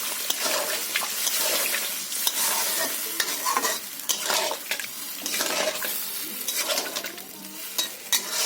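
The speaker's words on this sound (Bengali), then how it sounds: "আমি এবার জল দিয়ে দিচ্ছি।" Water going into a pan of frying hilsa and eggplant curry, bringing a loud, sustained hissing sizzle with bubbling and irregular stirring scrapes close by, with no talking.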